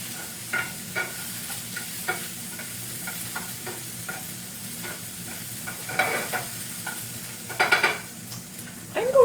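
Onions and vegetables sautéing in a pan with red pepper flakes, a soft steady sizzle broken by repeated scraping stirs of a utensil against the pan, louder clanks near the end, no speech.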